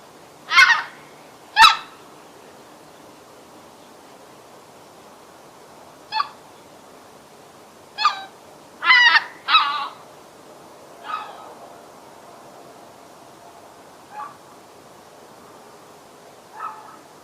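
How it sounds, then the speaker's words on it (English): White-fronted goose calls play as a recording: about eight separate honking calls, some paired in quick succession, spaced irregularly over near-silence, clear and moderately loud. "let's go ahead and play this call and listen to what the white-fronted goose sounds like"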